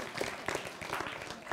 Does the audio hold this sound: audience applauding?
yes